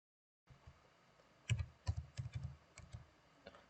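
Typing on a computer keyboard while entering code, a quiet, close run of irregular key clicks with a few firmer presses and short pauses, alone without talk.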